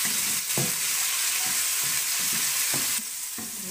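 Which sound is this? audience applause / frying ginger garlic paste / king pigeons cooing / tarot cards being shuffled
frying ginger garlic paste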